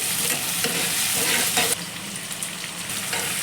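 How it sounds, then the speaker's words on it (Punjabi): Onions fry in a pan for okra curry, giving a continuous close sizzle with stirring scrapes over it and a slight drop in level partway through. "ਪਿਆਜ਼ਾਂ ਨੂੰ ਹੁਣ ਆਪਾਂ ਭੁੰਨ ਲਵਾਂਗੇ ਜੀ"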